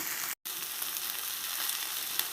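Okra, lady's finger, fries in a pan with a dense, steady sizzle throughout, broken by one very brief gap near the start as it is stirred.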